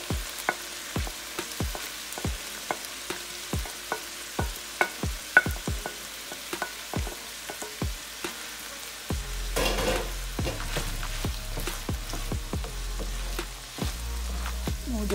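Ground meat for sloppy joes sizzles in a pan while a utensil stirs it in quick repeated scrapes and taps, the frying growing louder and denser near the end, with no talking.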